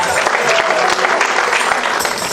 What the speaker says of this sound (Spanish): Dale fuerte ese aplauso a Jesucristo esta noche.